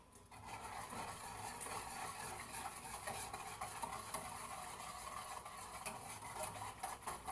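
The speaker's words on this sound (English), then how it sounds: "take a whisk and I'm going to stir it" A whisk stirring a homemade laundry soap mixture in a container, a faint, steady swishing and scraping that runs continuously with light ticks, no voices.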